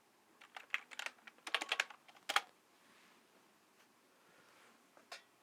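A computer keyboard typing a terminal command to upgrade packages in a basement workshop, in quick clustered bursts of key clicks over about two seconds, then a quiet pause and one final keystroke.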